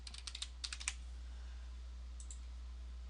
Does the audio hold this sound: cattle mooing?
no